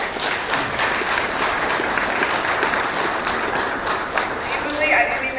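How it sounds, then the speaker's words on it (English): An audience claps steadily for Billy Medina at an SBA Emerging Leaders 2014 event, a continuous roomful of applause with some voices mixed in. "Billy, I didn't even have to coach people to clap for you"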